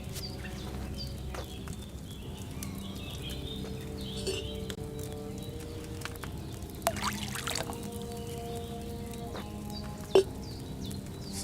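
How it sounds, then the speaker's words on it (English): Wine poured into a cauldron in Kingdom Come Deliverance 2, a soft steady trickle under a faint medieval outdoor ambience with occasional bird calls and one brief knock, no talk. "So, what did you pour in there? Wine, of course."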